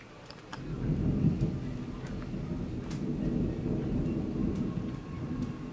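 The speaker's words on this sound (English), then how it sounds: "That thunder is quite noisy." Heavy summer rain pours steadily while deep thunder rolls and rumbles through the whole stretch, with a few faint clicks on top and no speech.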